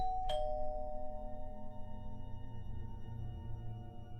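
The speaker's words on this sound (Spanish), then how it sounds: "Continúo tocando el timbre sin resultados." A doorbell chimes once near the start as a bright ding, then its tone lingers and fades slowly over a low steady hum, an audiobook effect with no voice heard.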